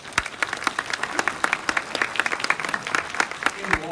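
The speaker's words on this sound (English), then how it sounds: "Let's give them a round of applause." A crowd at a Texas House District 25 candidate forum at the Dow Academic Center bursts into sustained applause: dense, steady clapping from many hands that fills the room for several seconds.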